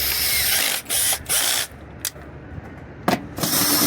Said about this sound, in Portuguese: vou tirar o câmbio depois que eu tirar aqui os parafusos e tirar a base